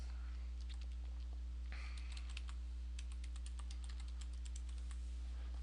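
Someone types a username and password on a computer keyboard, a quick irregular run of close key clicks in short bursts over a steady electrical hum, with no talking.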